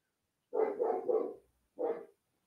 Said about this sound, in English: can you just hear my dog barking?